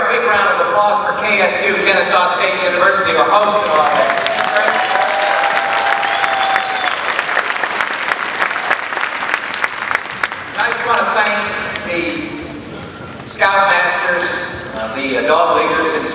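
An audience applauds at a university-hosted Girl Scouts merit badge event, a dense, loud wash of clapping that rises, dips and swells again, with voices talking over parts of it.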